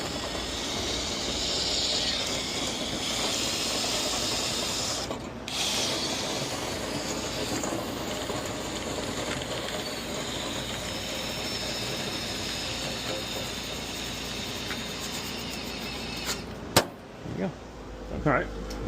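A vacuum cleaning a dryer vent runs steadily with a loud, constant whooshing roar that cuts off abruptly near the end, followed by a few clunks.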